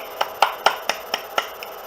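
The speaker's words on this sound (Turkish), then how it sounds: "Hadi hadi siz de alkışlayın." Seven sharp separate hand claps land at an even, fairly quick pace, close and moderately loud with little else around them.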